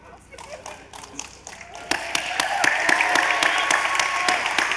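Audience applause at a live Hot Ones spicy-wings taping builds from scattered claps into steady, dense clapping that fills the room and swells louder partway through.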